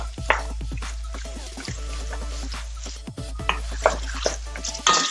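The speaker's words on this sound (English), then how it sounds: "And I want to fry this." An onion fries in a pan with a steady sizzle, broken by three or four stirring scrapes and soft clicks of a utensil. The sound is close and moderately loud, with no speech.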